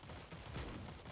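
Rapid gunfire in a video game, a dense burst of shots crackling continuously through the short moment at a steady, fairly loud level.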